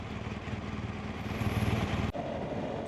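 A BMW R1200GSA Rallye motorcycle engine drones steadily while riding, a low, even rumble with a mild swell midway and a short dip near the end, no talking.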